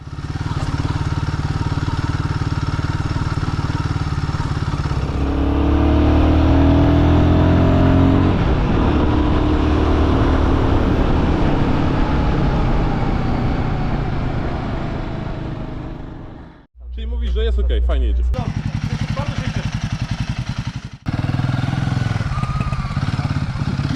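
A Royal Enfield Guerrilla motorcycle ridden briskly during a group rally ride, engine droning loud and close with rising revs and passing vehicle noise, a brief dropout, then continued engine hum.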